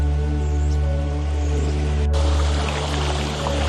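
Steady trickling and splashing water from a small creek waterfall, continuous and moderately loud, with a low constant hum underneath.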